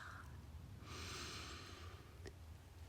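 A deep breath drawn in through the nose, a soft airy rush lasting about a second amid quiet, with a brief faint click afterward.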